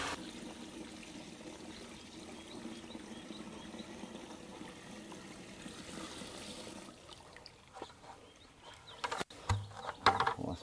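A bucket of water is poured into a yard drain, a soft gushing and trickling stream running for several seconds before it fades into scattered drips, splashes and handling knocks, all fairly quiet.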